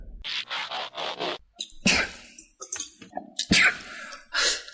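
One person sneezes several times in a studio podcast, each sneeze a sharp, loud burst close to the microphone, with sniffs and throat noises between them.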